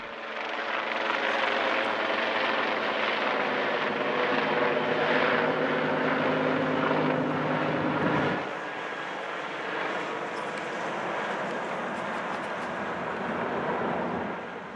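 A Sig Skyray 35 RC model airplane in flight, its small engine a steady, loud buzzing drone throughout, with a slight dip in pitch and level partway through.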